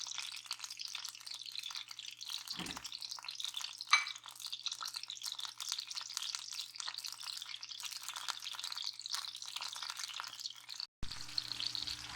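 Onion, garlic and ginger frying gently in a pan over low heat, a faint continuous sizzle with occasional stirring scrapes and a brief clatter.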